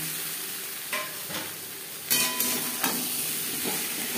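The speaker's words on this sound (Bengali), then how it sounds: "মশলার সাথে আলু বেশ ভালো করে মিক্স করে দেবো।" Potatoes fry and get stirred into spice masala in a pan for a Bengali fish curry with potatoes, giving a steady sizzle broken by a few louder scraping stirs near the end.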